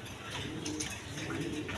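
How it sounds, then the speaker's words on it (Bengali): A pair of short-face pigeons, a female and a male, coo softly and repeatedly at close range, with low murmuring calls and brief higher chirps over faint background noise. "এখানে এক পেয়ার শর্ট পিস কবুতর আছে"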